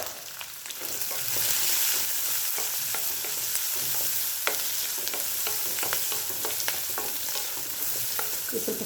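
Half a tablespoon of turmeric fries in a pan for methi huli rice, a loud steady sizzle running throughout with frequent light clinks and scrapes of a spoon stirring close by.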